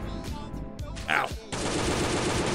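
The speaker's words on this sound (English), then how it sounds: "Stop shooting everywhere." Machine gun fire in the survival game Last Day on Earth, a loud rapid burst of shots that breaks off and then resumes as continuous fire, with a brief voice sound in the gap.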